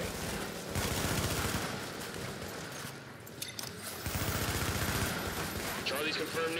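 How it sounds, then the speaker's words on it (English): Rapid gunfire crackles in a video game as a fortification comes under attack, sustained bursts of shots rattling continuously at moderate distance, with voices heard over the battle. "Fortification at Charlie is taking fire."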